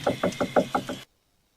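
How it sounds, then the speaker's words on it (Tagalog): Six quick, evenly spaced knocks on a door ring out close and clear, then the sound cuts off into silence. "Kumakatok pa siya."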